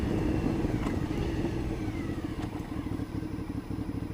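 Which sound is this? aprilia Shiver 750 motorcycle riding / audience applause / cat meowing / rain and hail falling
aprilia Shiver 750 motorcycle riding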